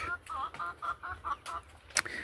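A flock of fifteen hens and one rooster clucks close by in a backyard coop, giving a run of short, repeated bird calls with a sharper squawk near the end.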